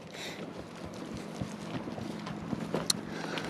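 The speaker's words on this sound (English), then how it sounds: "But Mace's horses come in for water." Horses walk past, their hooves clopping in an uneven rhythm at moderate distance, with light wind noise in the background.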